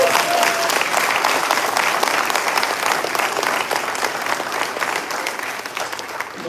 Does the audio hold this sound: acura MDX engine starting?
no